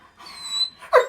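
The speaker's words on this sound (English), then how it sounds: "No barking." A dog gives a short, sharp bark near the end, preceded by softer whimpering and snuffling sounds in a quiet indoor room.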